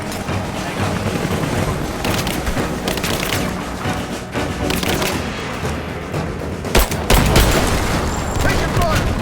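Video game gunfire in Rise of the Tomb Raider, a dense continuous fusillade of rapid shots and booms with a louder heavy blast near the end, mixed with faint battle shouting.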